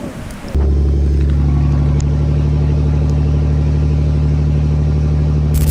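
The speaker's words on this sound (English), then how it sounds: "jumped into the truck and drove off" Steady, loud engine rumble of a truck pulling away in a hurry in windy wilderness with a tornado approaching, starting abruptly and holding a strong, continuous drone throughout.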